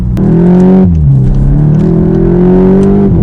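A stock VW Golf MK8 GTI pulling hard from a launch, loud close engine roar climbing in pitch, a brief drop at a gear change near one second, then rising strongly again.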